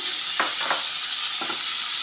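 Papaya fries in a pan with chopped tomato and green peas, a close, even sizzle broken by two or three quick stirring scrapes, with no voices.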